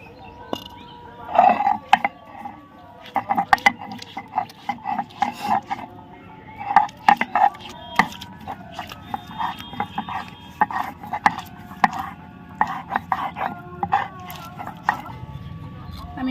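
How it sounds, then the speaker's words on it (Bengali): Tomato being ground by hand on a stone for chicken handi, with repeated scraping, rubbing strokes and small clacks in an irregular rhythm, close and moderately loud, while someone talks through it. "এবার আমি টমেটোটা বেটে নিব অল্প অল্প করে নিয়ে বাটবো"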